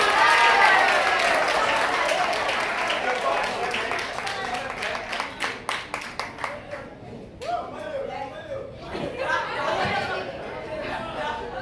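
A church congregation bursts into rhythmic clapping and cheering amid crowd chatter, the applause building to a steady beat before tapering into scattered claps and voices.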